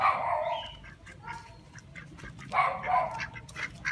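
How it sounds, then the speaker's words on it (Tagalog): Domestic ducks and geese on a farm in Pampanga, Philippines, give bursts of nasal honking quacks, close and fairly loud, in two clusters with a quieter stretch between. "Itik tsaka bibi."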